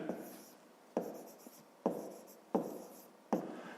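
Handwriting with a pen on paper during a 5th-grade math problem: a series of close scratchy strokes, each beginning with a sharp tap and then fading, repeating about every second with no talking.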